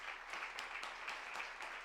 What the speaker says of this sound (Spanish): Pues un aplauso para Alberto Daniel.